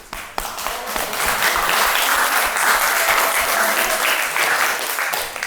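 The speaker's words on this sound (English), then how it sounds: "Let's give a big cheer for the up-and-coming authors." A room full of audience members breaks into sustained applause for up-and-coming authors, dense clapping that swells quickly and holds steady throughout, with faint cheering mixed in.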